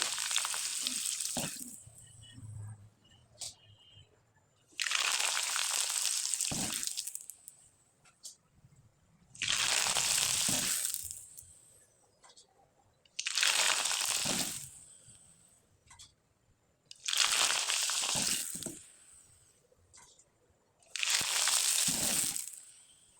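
Flour pitha cakes made from atta fry in hot oil, with six loud bursts of sizzling spaced a few seconds apart, each fading to quiet before the next.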